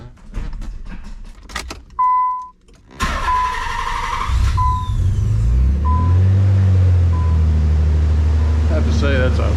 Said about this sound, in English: I have to say that's a pretty stinking solid cold start there